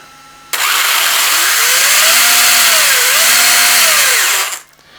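Brushless motor of an RC car on a 4S setup winding up under throttle: a loud, steady high-pitched whine that rises, dips briefly and rises again, then cuts off after about four seconds.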